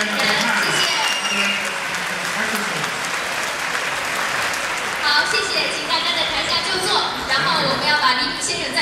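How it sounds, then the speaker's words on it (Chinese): An audience at a New York film festival applauds actors and directors, with dense, sustained clapping filling the whole stretch, loud and close, and no voices standing out above it. "再次把最热烈的掌声送给我们的演员以及导演们"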